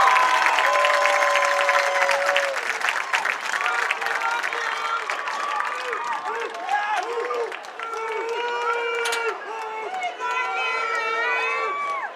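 Crowd at a high school football game between Greenbrier Panthers and Little Rock Christian Warriors applauds seniors and their parents, with sustained clapping and cheering from the stands beneath an announcer talking over the public address.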